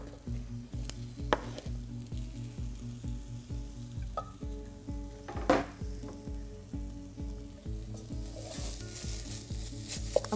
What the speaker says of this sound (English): we'll let the turkey brown before we add the other ingredients